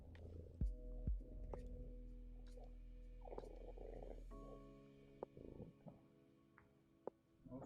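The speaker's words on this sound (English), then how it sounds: "You want to purr for the stream?" A cat purrs close up: a low, continuous rumbling drone for several seconds that then fades, with soft scattered rustles and no speech.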